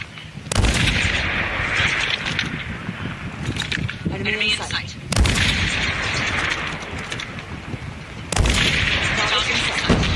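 Rapid gunfire in Call of Duty comes in dense, loud bursts with heavy booms that cut in sharply and sustain for several seconds, repeating three times, with voices talking underneath.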